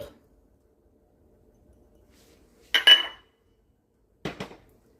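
Cake batter of flour and yeast mixed in a bowl for batch-cooked snacks: two short, close clinking bursts of utensil against bowl separated by silence, with no talk.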